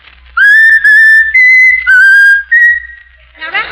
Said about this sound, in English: whistle my country 'tis of thee, Raffles.